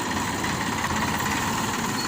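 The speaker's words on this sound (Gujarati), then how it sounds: "ડાયરેક્ટ મોટો બે બુંગણ પાથરીને ગોળ ટ્રેક્ટર ફેરવે રાખવાનું" A tractor engine drones steadily at close range as it is driven in circles over fenugreek spread on sacking to thresh it, a constant rough rumble with no pauses.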